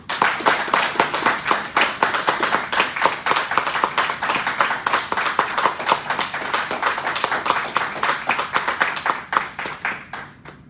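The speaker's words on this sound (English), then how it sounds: "let's give these top 100 brokers a big round of applause" An audience at a livestreamed broker awards event claps in steady, sustained applause, with many overlapping hand claps at a moderate distance that thin out and fade near the end.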